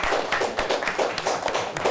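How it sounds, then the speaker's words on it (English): A quiz-show studio audience claps in a short burst of steady, moderately close applause with no talking. "Let's give them a nice round of applause."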